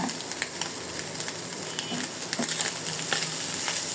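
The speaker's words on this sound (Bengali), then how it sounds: "এই তো আমার কাচকি মাছ ভাজা হয়ে গেছে।" Small kachki fish fry in hot oil in a pan, giving a dense, even crackle and sizzle that holds steady at close range with no talking.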